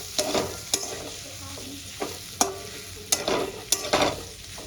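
Egg and potato curry being sautéed in a pan, with a low sizzle under sharp, rhythmic spatula scrapes and knocks against the pan, close and fairly loud.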